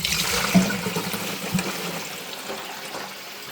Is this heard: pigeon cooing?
no